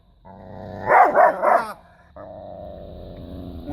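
Aggressive female dog guarding a car, a low growl breaking into three sharp, loud barks, then a sustained rumbling growl, close and alone.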